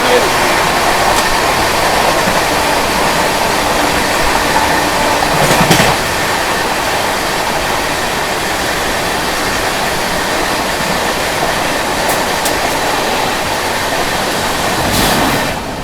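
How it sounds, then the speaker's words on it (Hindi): A CR Rajdhani Express train overtakes the Howrah Mumbai CSMT Mail at high speed, a loud continuous rush of wheels and clattering rail noise with sharp bursts, while someone talks over it. "अपनी सीआर राजधानी यहाँ पर ओवरटेक कर रही है हावड़ा मुंबई मेल"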